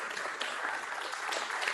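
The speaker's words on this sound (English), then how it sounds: "Let's give him a round of applause." An audience claps at an evening book talk, a steady, even patter of applause from a medium-sized crowd, moderately loud and continuous without voices.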